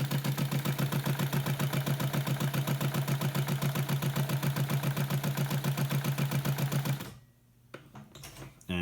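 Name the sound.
Titan TN-650 BL industrial sewing machine winding a bobbin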